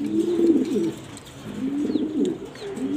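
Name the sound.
grizzle pigeons cooing in a loft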